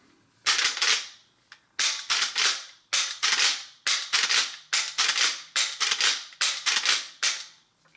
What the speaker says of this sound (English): This Henry rifle has a very smooth action to it.